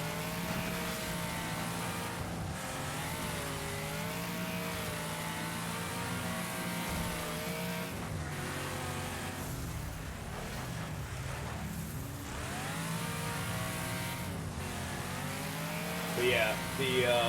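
Car engines droning and revving steadily in a video game, a continuous layered hum of several vehicles shifting pitch throughout, with someone talking over it.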